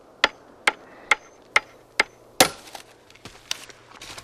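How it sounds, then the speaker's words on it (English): Hammering on wood in the 1990 film Tremors: five evenly spaced sharp knocks, then a heavier clattering strike followed by softer, irregular taps. "this wonderful moment of Kevin Bacon trying to use a hammer"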